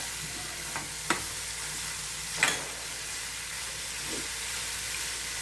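Beetroot curry with turmeric and salt stirred in a pan, a soft continuous hiss with a few faint scrapes and clicks of the spoon, quiet and close.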